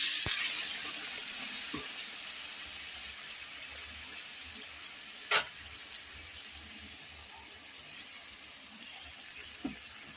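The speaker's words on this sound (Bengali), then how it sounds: "এখন আমি এই সবজিগুলোকে এইভাবে কষাতে থাকবো।" Vegetables frying in a pan with spices and turmeric, a soft continuous sizzle with a few sharp clicks of stirring, fairly quiet and close, without talk.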